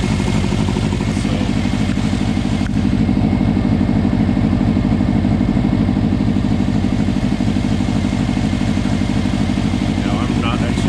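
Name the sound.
car engine idling and warming up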